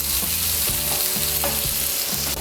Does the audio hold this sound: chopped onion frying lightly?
yes